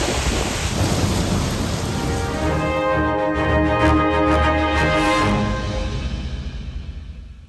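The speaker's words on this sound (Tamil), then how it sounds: "ஐக்கிய அரபு அமீரகத்தில் வெளுத்து வாங்கும் கனமழை காரணமாக ரெட் அலர்ட் எச்சரிக்கை" Heavy rain pours down steadily during a thunderstorm in the UAE, with a loud, sustained roar of downpour and rolling thunder rumbling underneath, fading slightly toward the end.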